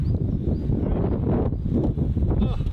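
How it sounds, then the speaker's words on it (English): Wind gusts across an open golf course, buffeting the microphone with a steady low roar and rumble that swells and dips slightly throughout, with no clear voices over it. "It's a bit windy."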